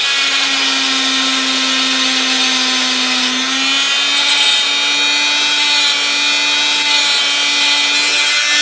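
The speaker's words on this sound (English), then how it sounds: "So on with the Dremel. I'm going to clean this one side up a bit." A Dremel rotary tool grinds and cleans up one side of a small die-cast Dinky Land Rover part, a steady high-pitched motor whine with rasping abrasive hiss, loud and close, running continuously with a slight pitch dip partway through, no talking.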